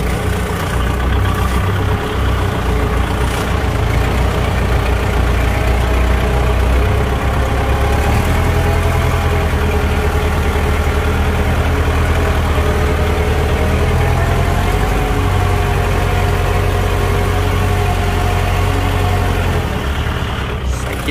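A tractor drives a rotary tiller at 540 PTO in first gear, its engine droning loud and steady up close with a heavy low rumble and no letup.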